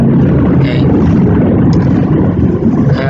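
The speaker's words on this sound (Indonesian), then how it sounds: "ada pesawat nih lewat ya" An airplane passes overhead with a loud, continuous engine drone that fills the space and drowns everything else, steady throughout without any talking.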